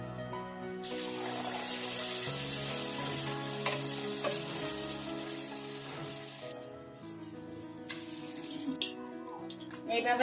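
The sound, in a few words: batter-dipped eggs deep frying in hot oil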